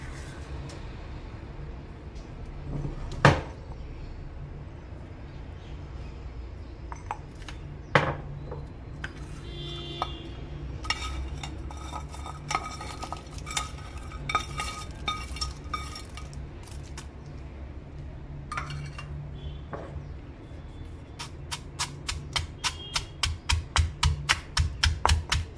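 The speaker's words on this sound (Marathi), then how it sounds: "आता आपण हा जो डिंक तळून घेतलेला आहे तो छान कुटून घेणार आहे मी" Fried edible gum being pounded into powder: scattered sharp knocks and scraping, ending in a rapid run of regular, evenly spaced thuds, close by and without talk.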